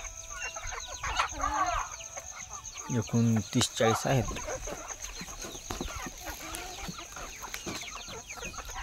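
Native village hens and a rooster clucking on a Maharashtra farm, a flock of around thirty to forty birds, with busy overlapping clucks and a loud burst of calls midway while someone talks throughout.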